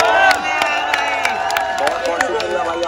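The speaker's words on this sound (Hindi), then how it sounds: "भाई के लिए एक बार भाई ताली बजा दो" A large stadium crowd at a fan meetup claps and cheers in a dense, loud roar, with shouts and voices mixed through the noise.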